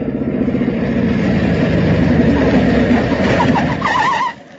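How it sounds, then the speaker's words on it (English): A motorcycle roars steadily along a road as a radio drama sound effect, a loud continuous engine drone that holds for about four seconds before cutting off abruptly. "I heard a motorcycle roaring along the road."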